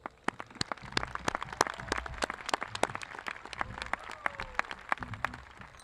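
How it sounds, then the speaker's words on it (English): Graduation audience at Hopkinsville High School, Kentucky, applauding the seniors: scattered claps ring out loud and sharp in an irregular burst above a softer background patter of distant clapping. "Please join me in giving them a round of applause."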